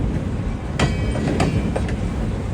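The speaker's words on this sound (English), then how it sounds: "This was originally a C&O GP38 number 3856 built in" A C&O GP38 locomotive, number 3856 and built in 1967, rolls past on an East Penn Railroad branch line, its steady rumble broken by a few sharp clanks from the cars, with no voices.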